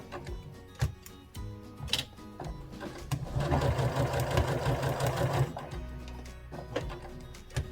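A sewing machine stitches the top of a small bear dress, running in a steady loud whir for about two seconds between short bursts and scattered clicks, with no talking.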